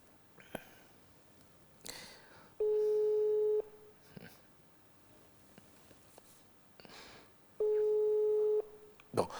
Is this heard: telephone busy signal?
yes